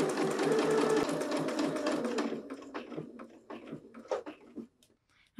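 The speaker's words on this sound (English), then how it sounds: "And we'll stitch right down." Sewing machine stitching a racerback tank top seam, a fast steady whir for about two seconds, then slowing into scattered mechanical clicks and taps.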